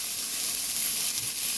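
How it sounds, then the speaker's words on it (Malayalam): Medium onion, sliced, sizzling in hot oil with green chilies and curry leaves, a steady close hiss holding even throughout with no pauses. "സവോള അരിഞ്ഞതിട്ട് കൊടുക്കാം."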